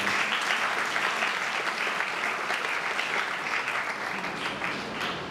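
Enthusiastic applause from an audience at a grand short-film release event, a dense sustained clatter of many hands clapping that holds steady for several seconds and eases slightly toward the end.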